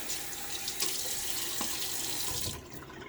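Tap water running steadily into a bathroom sink during a wet shave, a full continuous splashing rush with brief slaps as water hits the face, cutting off near the end.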